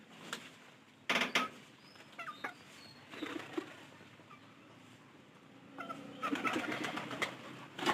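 Pigeons in a farm house give soft cooing calls amid a low background hum, with bursts of wing flapping and bird activity coming and going over several seconds, nearby and moderately quiet.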